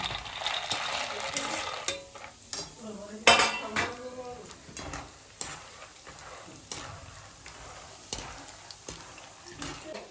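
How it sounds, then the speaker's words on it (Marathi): Peanuts frying in hot oil in a wok, with broadband sizzle under repeated clinks and scrapes of a utensil against the pan, one loud clatter in the middle, and some nearby talk. "आपले शेंगदाणे तळून झाले आहे."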